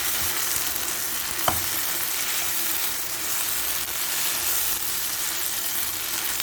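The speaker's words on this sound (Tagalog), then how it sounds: "continue to cook on high flame" Beef mechado seasoned with smoked paprika and tomato cooking on high flame, a steady dense sizzle and fry with a single sharp clink partway through, no talking.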